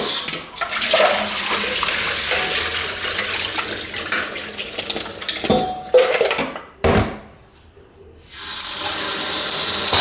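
Pork ribs being washed with baking soda in a bowl of water: continuous splashing and running water with clinks of the bowl, then a brief quiet gap before the water rushes again, close and fairly loud.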